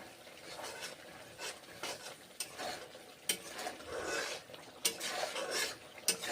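Spices with salt and turmeric are stir-fried in a pan for a Bengali pointed gourd and bada dish, a busy scraping and stirring rhythm with sharp utensil clinks and a low sizzle, no voices.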